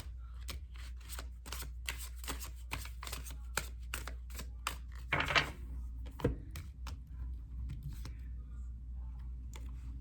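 Tarot cards are shuffled close up on a table in a fast, steady run of crisp riffles and taps over a low background hum.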